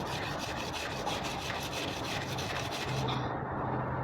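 A chopping knife blade is sharpened with a metal file in steady, rasping back-and-forth strokes, close and continuous for the whole stretch with no voices.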